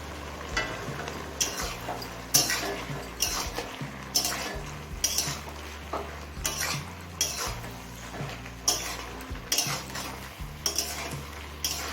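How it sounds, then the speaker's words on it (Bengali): Spinach curry being stirred in a pot, a steady run of scraping spoon strokes against the metal under a low simmering sizzle, close and alone with no voices. "ঢাকা খুলে একবার নেড়ে নিলাম"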